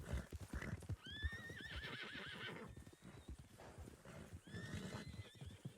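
Horse in the Western game Red Dead gives two clear whinnies over steady clip-clop of hooves, close and fairly loud, with no talk.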